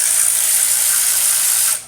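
Wrench working a part off a 1973 Mercedes R107 450SL engine, giving one sustained close, loud buzzing ratchet-like whir that cuts off abruptly, with no voices.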